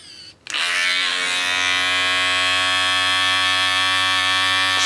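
Electric hair clippers cutting hair for a buzz cut switch on after a short pause and buzz steadily and loudly up close, a constant bright motor whine holding to the end.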